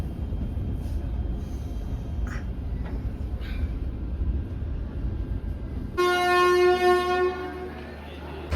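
A Mandovi Express train arrives at Chhatrapati Shivaji Maharaj Terminus in Mumbai at night, with a steady low rumble giving way to a loud, sustained horn blast near the end.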